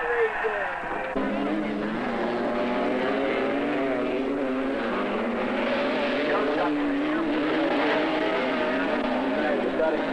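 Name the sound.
125cc racing motorcycle engines at the starting line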